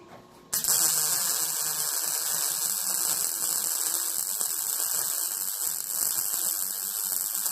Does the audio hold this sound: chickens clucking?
no